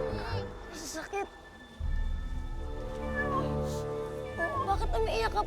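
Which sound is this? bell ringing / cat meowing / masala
cat meowing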